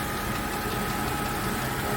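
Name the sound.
engine of a 2004 Land Rover Discovery II running with slip liner knock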